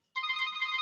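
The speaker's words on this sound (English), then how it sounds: "Sorry for the phone." A telephone ringtone starts abruptly after a brief silence and holds a steady electronic ring, clear and moderately close, heard alone.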